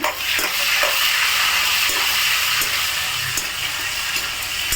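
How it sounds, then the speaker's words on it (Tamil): Green chili and ginger frying in a pan with cumin for a spinach dinner: a loud, steady sizzle with a few sharp stirring clicks throughout, no voices. "வறுக்கிறேன் அடுத்தது பச்சை மிளகா இஞ்சி எல்லாத்தையும் போட்டு"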